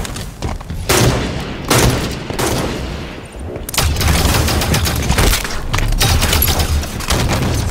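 Scattershot weapon fire in the Halo 5 Guardians Super Fiesta match on The Rig, with loud, heavy blasts at a fast, uneven rate and short gaps between bursts, over a continuous layer of close combat noise.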